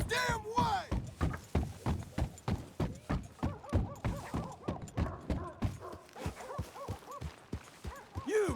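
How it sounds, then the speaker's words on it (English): A horse in Red Dead Redemption 2 clip-clops at a steady trot, close and distinct hoofbeats in even rhythm, with a neighing whinny at the start and another at the end. "That is a fine horse right there."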